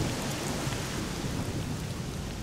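Steady heavy rain pours with a continuous low thunder rumble in a video game's outdoor zone, loud and unbroken, with no voices.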